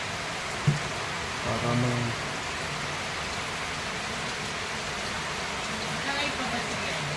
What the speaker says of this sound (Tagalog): Naghihintay lang kami na tumila ang ulan.